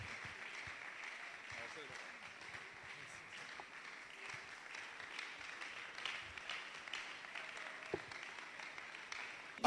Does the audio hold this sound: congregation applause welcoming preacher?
yes